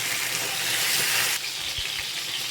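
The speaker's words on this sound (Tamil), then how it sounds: "இந்த எண்ணெயிலே வந்து கத்திரிக்காய் மசிகிற அளவுக்கு வதக்கிக்கலாம்" Brinjal sautés in oil over a low flame, making a dense, close sizzle that drops slightly in level partway through, with a few low knocks near the end and no talking.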